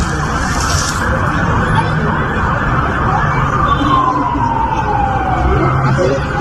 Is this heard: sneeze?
no